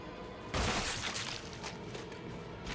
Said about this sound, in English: Let's use the flash grenade.